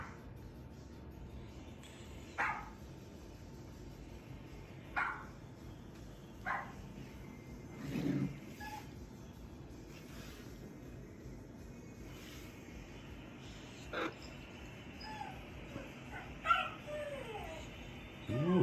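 Puppy barks, yips and whimpers play from a phone as scattered short, faint calls over a quiet room background.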